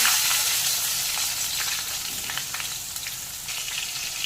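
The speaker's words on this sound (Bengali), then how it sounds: "নুন দিয়ে আলু বেগুনটা একটু ভেজে নেবো" Salted strips of potato and eggplant fry in oil tempered with nigella seeds, giving off a close, steady, dense sizzle with small crackling pops throughout.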